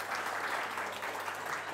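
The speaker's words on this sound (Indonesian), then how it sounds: "Oke, kasih tepuk tangan buat Ati." Steady audience applause for a participant at a pastor's talk on love, dating and sex, a dense continuous wash of clapping filling the short moment at moderate level with no voices over it.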